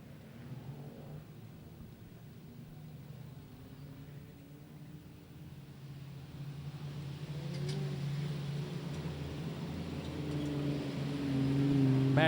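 Division 2 street sedan race cars rolling out at Gympie Speedway, a low engine drone that builds from distant to louder over several seconds, with brief higher revving near the end.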